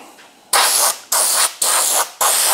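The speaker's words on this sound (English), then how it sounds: "I plan on spraying the inside of this too, so we'll just hit this real quick." Undercoating sprayed from an aerosol can, four loud hissing bursts close by, each about half a second long with brief pauses between, after a short faint start.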